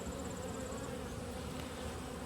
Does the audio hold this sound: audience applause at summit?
no